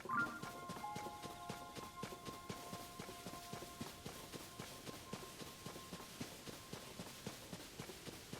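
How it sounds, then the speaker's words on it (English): Horses walking in the video game Zelda: Tears of the Kingdom, a steady rhythmic clip-clop of hooves close by, with a soft tonal game chime at the start and held in the background. "Oh, look, horses. Lots of horses."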